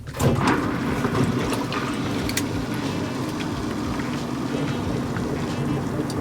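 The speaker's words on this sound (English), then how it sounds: "you'll hear your water heater start to gurgle and fill up with vinegar" An on-demand water heater fills with vinegar during a cleaning flush, producing a steady, loud gurgling and rushing of liquid through the unit, continuous throughout with small bubbling pops over it.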